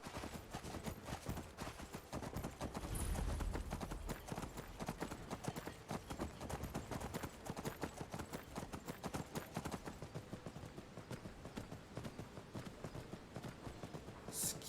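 Hooves of a horse clip-clop in a steady rapid rhythm throughout in the video game Skyrim, close and continuous as the mount travels, with a brief low thump near the start.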